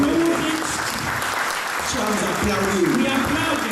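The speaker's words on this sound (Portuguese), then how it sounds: "We are applauding." A crowd claps steadily and warmly throughout at an Angolan independence anniversary thanksgiving church service in London, dense applause filling the room while voices speak over it.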